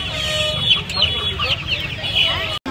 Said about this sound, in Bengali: ওখানে দেখতে পাচ্ছেন সোনালি দেশি মোরগ আর মুরগি আছে